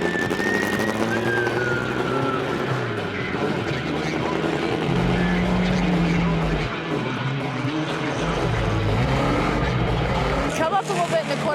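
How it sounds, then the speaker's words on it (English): A Ford Mustang stock car engine roars and revs loudly on a racetrack with rising and falling pitch, with a person talking over it and heavy wind buffeting throughout. "As I revved up Mike's Mustang"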